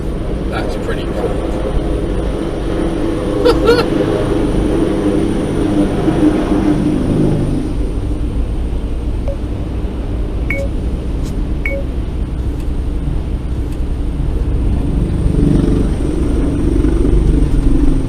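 A helicopter flies overhead near snowy mountains, its rotor producing a continuous loud drone and thrum throughout, with occasional small beeps and people talking over it.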